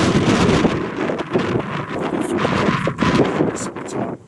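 Strong wind buffets the microphone in a continuous loud roar with gusty swells throughout.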